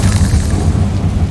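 A short, dull boom of a Confringo fire spell blasting in Hogwarts Legacy, a muffled low rumble lasting about a second with no voice over it.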